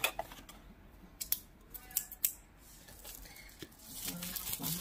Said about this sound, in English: found what it took. Scissors.